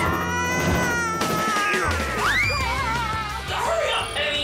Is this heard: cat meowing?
yes